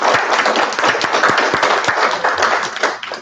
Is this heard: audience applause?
yes